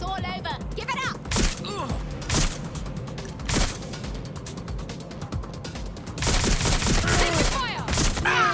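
Rapid gunfire in the Watch Dogs Legion video game comes in sharp, loud bursts with mechanical clatter, mixed with game sound effects and brief voice lines.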